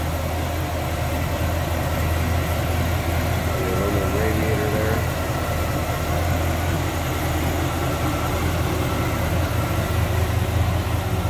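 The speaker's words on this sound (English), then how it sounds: "Very nice and tight, smooth running engine." A 1968 Chevrolet Chevelle Malibu convertible's V8 engine idles with a steady low rumble and even throb, close up and loud, continuous throughout.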